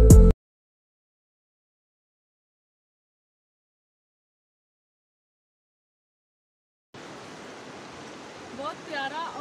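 Cold, blue water flowing in the Neelum valley of Azad Kashmir, a steady rushing wash that begins only after a long silence, with a faint voice near the end.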